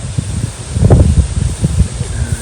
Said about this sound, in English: Terribly windy here now.